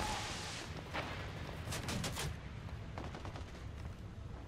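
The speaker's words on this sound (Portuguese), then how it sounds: "Meu, da onde tá vindo tanto tiro" Heavy gunfire in Ghost Recon Wildlands comes as a dense run of shots, strongest near the middle, over a constant low rumble. The level is fairly quiet, as if the shooting is at some distance.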